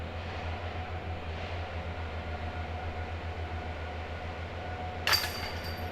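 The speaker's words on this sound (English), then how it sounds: "There was a tractor in the property next door that was cutting some grass." A tractor mowing grass on the neighbouring property beside a disc golf course produces a steady, low engine drone at a distance, with a brief sharp clatter close by near the end.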